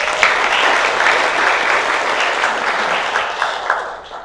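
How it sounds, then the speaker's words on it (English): Audience applause at a community breakfast forum, steady dense clapping from a crowd that holds for several seconds and then begins to thin toward the end. "Please give them a round of applause."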